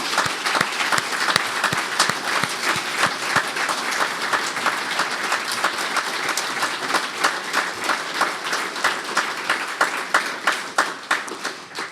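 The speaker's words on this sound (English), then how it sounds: "So I'd like, first of all, to give us all an applause for all of this." Applause at the closing session of an Earth Explorer 12 user consultation meeting: a smaller crowd clapping, individual claps distinct, rhythmic and steady for about twelve seconds before thinning out, no speech over it.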